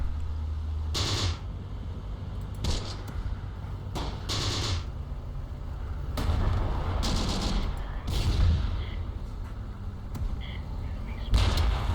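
Bursts of gunfire crackle in Close Combat: The Bloody First, with several sharp volleys spread irregularly across the scene and a low rumble beneath, while someone speaks now and then.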